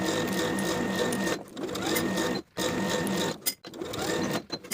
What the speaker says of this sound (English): Then I'll edge stitch along the fold of the bias tape from one side to the other.